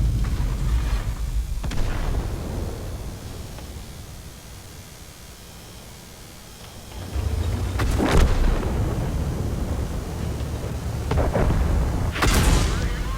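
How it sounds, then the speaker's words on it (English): Deep artillery booms and explosions in a tank video game roll under a steady rumble, with several sharp blasts spaced through the stretch and no speech over them. "Artillery not trying to give me a break at all."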